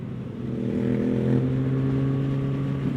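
A 2022 Ducati Monster motorcycle engine revs up and holds a loud, steady, throaty drone, rising briefly as the throttle opens.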